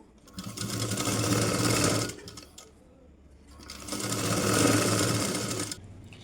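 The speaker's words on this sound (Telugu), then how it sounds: "ఈ విధంగా పెట్టి 1/2 ఇంచు మార్జిన్తో స్టిచ్ వేయాలండి" A sewing machine stitches a blouse back seam in two loud, steady whirring runs, each lasting about two seconds, with a short quiet pause between them.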